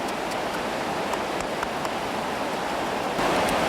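Floodwater rushes in a steady, broad roar that carrying cars, boats and small sheds along, loud and continuous throughout and swelling slightly near the end.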